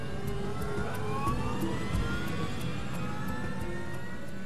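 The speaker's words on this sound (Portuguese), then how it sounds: "E grava o som dos motores de dentro da cabine." Aircraft jet engines of flight 90 throttling up, heard from inside the cockpit as a steady, loud roar with rising whining tones that build throughout, no voices.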